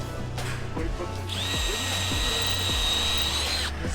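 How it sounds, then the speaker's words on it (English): A power drill whines up and bores through wooden pallet boards in several short bursts, revving and slowing, close by with a steady background hum. "Never-ending pallet drilling."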